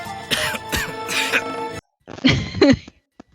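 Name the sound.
cough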